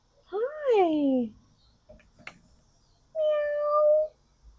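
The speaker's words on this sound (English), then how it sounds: "Sorry, I always get distracted by cats." A cat meows twice, the first a rising-falling call and the second a steadier, shorter meow, fairly close with a quiet pause between them.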